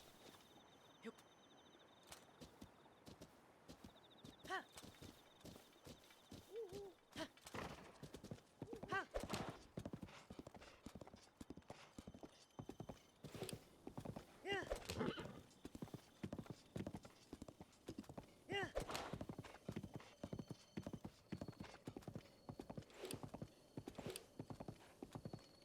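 Horse in the Breath of the Wild game, hooves clip-clopping in a steady, close rhythm over a long stretch, with occasional neighs, and a voice briefly heard.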